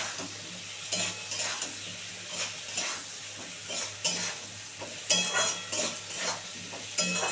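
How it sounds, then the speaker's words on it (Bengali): Pieces of rui fish head fry in a pan with a steady sizzle, broken every second or so by bursts of stirring and the scrape of a spatula against the metal, close and moderately loud. "এটা এটা সুন্দর করে এখন একটু ভাজা হবে"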